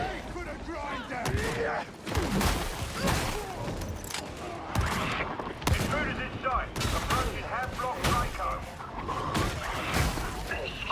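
Shotgun fire in the Warhammer 40,000: Darktide video game, with the Arbites class using a shotgun that carries a shell bandolier, heard as repeated sharp blasts within dense game combat noise.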